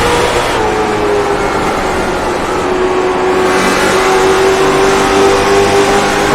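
Race car engines in the iRacing video game, a loud continuous roar with a rising, sustained engine whine as a car pulls hard off a turn, with no talking.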